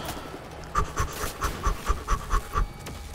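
A dog pants in Wolfenstein: The New Order, a run of quick, evenly spaced breathy puffs, about ten in a row, close and clear over a low game ambience with no talk.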